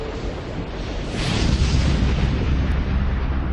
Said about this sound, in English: the colossal explosion at 10:50 p.m. rips the end off it